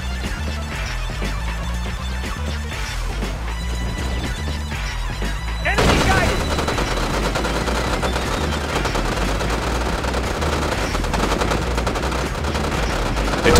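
Soldiers open fire on a derelict American Grizzly battle tank in the Red Alert 2 video game, rapid machine-gun bursts over game music that swell into a dense, continuous volley of gunfire.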